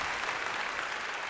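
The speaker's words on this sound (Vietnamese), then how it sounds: "Một tràng pháo tay thật lớn dành cho Nikki Monster." A studio audience at a televised music show applauds a dance performance, dense sustained clapping and cheering at steady loudness throughout, with no speech over it.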